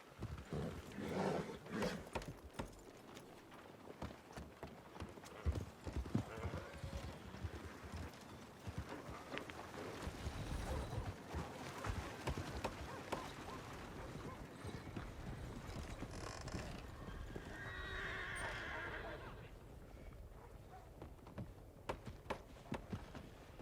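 Horse hooves clip-clop across ground in the Western game Red Dead Redemption 2, a steady trotting rhythm close by, with rustling and scattered ambient noises around it and no voices.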